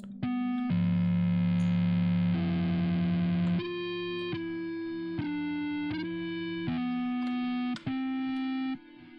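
Electric bass guitar run through an amp emulator, sustained distorted notes with thick buzzy harmonics, first long held tones and then a series of shorter plucked notes in an even rhythm, loud and close with no voices.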